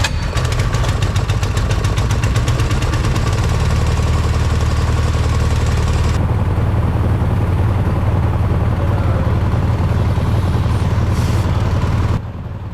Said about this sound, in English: Sounds like the air compressor was being a little bit of a pain, so hopefully it starts up for us.